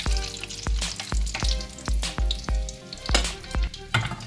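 Chicken nuggets deep-fry in a pot of hot oil, a loud, continuous bubbling sizzle near at hand, punctuated by repeated knocks and scrapes of a scoop lifting pieces out.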